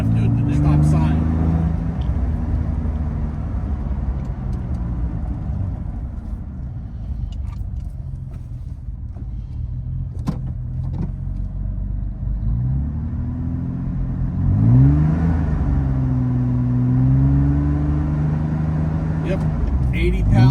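A 1965 Aston Martin DB5 engine holds a steady, loud rumble around 3,000 RPM on a road test, with its drone rising and falling near the end as someone talks over it.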